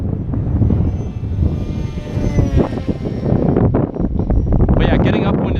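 An FT22 RC prop jet model plane flies through a snowstorm, its thin motor whine rising and falling while heavy wind buffets the microphone and a person talks over it.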